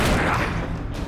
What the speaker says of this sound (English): Let's use a Missile Artillery to kill the last guy.